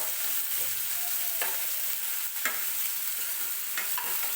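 Tomatoes fry in hot oil for a cabbage bhaji, giving a steady, close sizzle broken by a few soft stirring scrapes. No one speaks.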